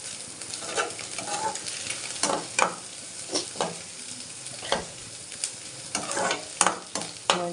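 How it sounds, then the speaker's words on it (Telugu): Egg frying and being stirred in a pan for egg Maggie noodles, with a steady sizzle broken by repeated scraping stirs, close and fairly loud with no talk. "మంచిగా ఫ్రై అవ్వాలి."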